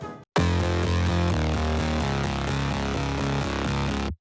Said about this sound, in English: I wanted to achieve an extremely gritty and rough bass line